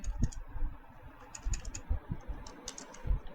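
Rapid keystrokes on a computer keyboard as a terminal command is typed, irregular clicks close and moderately loud with short pauses between bursts, no voice.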